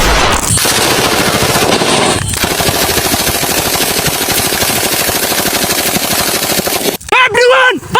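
Loud, sustained automatic gunfire from soldiers in a comedy war film, rattling continuously for several seconds before a brief break and a final burst, with shouting voices mixed into the firing.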